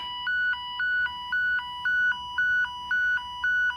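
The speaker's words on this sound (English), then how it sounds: "I'll pick up my fax line, and I should hear it on my butt set." A regular two-tone telephone signal on a fax line, heard through a lineman's butt set, alternates in steady repeating pulses, about seven cycles, clear and close over a quiet line hum.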